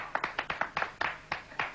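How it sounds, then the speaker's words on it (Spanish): A television studio audience claps in a short, uneven burst of rhythmic hand claps, a few sharp slaps spaced irregularly over under two seconds, close and moderately loud. "Fuerte el aplauso para eso."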